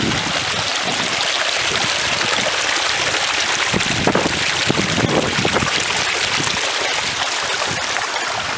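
Water flowing down from a pond, a steady loud rushing wash with wind buffeting the microphone, continuous and close throughout.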